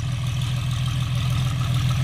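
A GPS-guided John Deere tractor runs in the evening with a steady, low, continuous engine drone. The sound holds constant throughout, with no speech.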